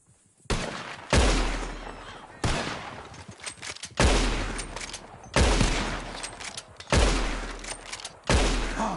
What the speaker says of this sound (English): whoever shoots four birds out of the sky first wins